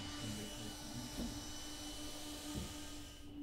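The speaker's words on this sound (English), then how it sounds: "vacuum the dirty water away without drips" A Kärcher Window Vac, a small battery-powered window vacuum, hums steadily with a thin high whine while sucking water off glass, close and fairly faint, with brief slurping bumps.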